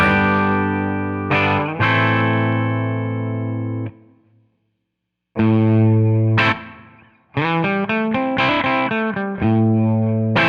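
Distorted electric guitar with volume on full plays sustained chords and a riff through a Two-Rock amp, loud and saturated, with a short silent gap in the middle.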